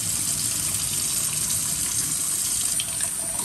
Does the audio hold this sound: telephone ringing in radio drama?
no